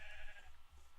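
A sheep in a video game lets out a single short, nasal bleat, close and alone.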